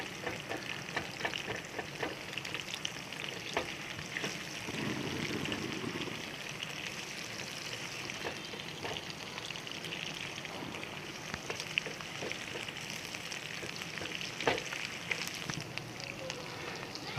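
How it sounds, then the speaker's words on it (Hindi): Thick onion pieces frying in a pan give a soft, continuous crackle and hiss at low volume, with a few faint clicks from the pan and no speech. "ये थोड़ा फ्राई कर लेंगे।"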